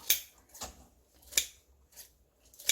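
Kitchen scissors snipping soaked seaweed for beef seaweed soup, a series of about five crisp, close cuts at an uneven rhythm with quiet gaps between.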